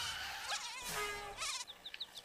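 Buzzing mosquitoes in the platformer Rayman Origins, a whining, wavering insect drone that swoops past in bursts and then fades into short chirps, quiet and without speech.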